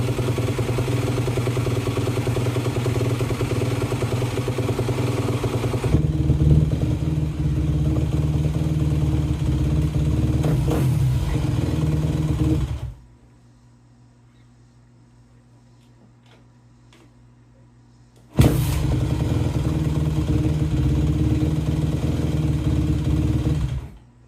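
A Yamaha YZ250F dirt bike engine idles while warming up, a steady close mechanical chug that cuts out for several seconds, then fires back up and keeps running, with no talk.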